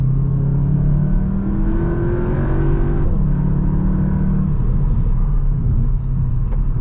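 A 2023 Cupra Leon, front-wheel drive, accelerates hard, its engine note climbing in pitch through a gear change around the midpoint, loud and close from inside the car.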